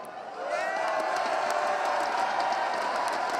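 A live esports arena crowd at ESL One New York roars for Navi, a dense sustained wash of cheering and whoops that swells early and stays loud and distant-sounding throughout.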